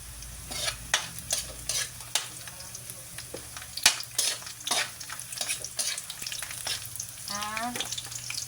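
Garlic and onion sautéed in a pan for Filipino dinuguan: a bright, constant sizzle broken by repeated sharp scrapes and knocks of a metal spatula, close and fairly loud.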